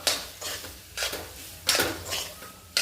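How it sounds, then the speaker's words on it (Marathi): Two spoons clatter against a pan while tossing veg hakka noodles, giving four or five distinct metallic scraping and clinking bursts in an irregular rhythm, close and fairly loud with no talk. "तर सरळ दोन चमचे घ्यायचे आणि या पद्धतीने मिक्स करून घ्यायचे"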